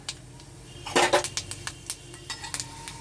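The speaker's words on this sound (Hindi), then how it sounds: "तेल गरम हो चुका है, अब इसमें हम पहले पंचफोरन डाल देंगे।" Panch phoron spices dropped into hot oil in a pan for raw mango chutney, heard as a burst of clinking and sizzling crackle with sharp utensil taps against the pan, followed by scattered metallic clicks and light scraping.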